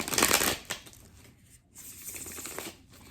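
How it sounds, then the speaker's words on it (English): A deck of tarot cards is shuffled close by, with a quick riffling burst at the start, a brief pause, then softer rustling and shuffling flicks. "And I'm just going to shuffle one more time."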